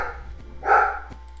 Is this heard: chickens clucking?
no